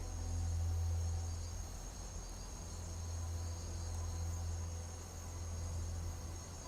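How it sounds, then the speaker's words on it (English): Crickets chirping in the video game Skyrim, a soft continuous insect trill over a steady low hum and hiss, faint and unbroken with no speech. "I can hear the crickets chirping"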